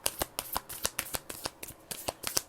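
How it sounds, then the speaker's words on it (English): A Moonology oracle card deck being shuffled, a rapid series of crisp riffling snaps and flutters heard up close with no talk. "With this Moonology deck, Spirit, I'm going to pull a few cards from this deck."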